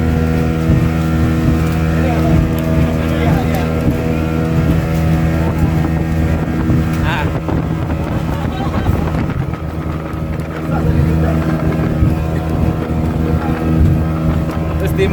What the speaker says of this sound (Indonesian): Ini secara realnya ini ombaknya besar loh teman-teman untuk kapal speedboat ini.